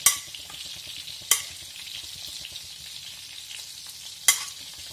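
Cut potatoes and fried salo and sausages sizzle steadily in a frying pan while being stirred, with three sharp scraping knocks of the utensil against the pan over the constant close frying hiss.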